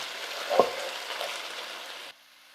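Ground round beef browns in a pan, giving a steady close sizzle with one sharp clack or scrape near the start. The frying fades quickly at the end.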